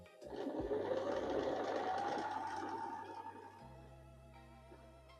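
A sewing machine stitches over quilt seams for a pumpkin block, a close, steady whirring run that slows and drops to a lower hum near the end, with no talk.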